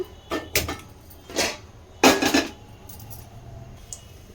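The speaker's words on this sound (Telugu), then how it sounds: "ఇప్పుడు పెనం పెట్టుకుంటున్నాను." A metal pan set down on the stove while cooking okra fry, giving several sharp metallic clanks and rattles close by, the loudest knock in the middle, then a quiet hum.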